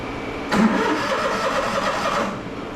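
A small scrap generator engine cranks and churns steadily for about two seconds, trying to catch, then cuts off.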